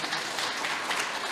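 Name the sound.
audience applause for a presenter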